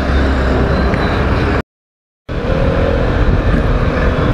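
A Vespa SXL 150 BS6 scooter being ridden at speed, loud continuous engine and wind roar close to the rider, broken by a brief gap of silence partway through.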